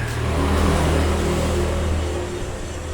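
Freshly repaired electric water pump, seized impeller freed by opening its housing, runs after being plugged in: a loud, steady motor hum with a constant low drone that eases slightly near the end.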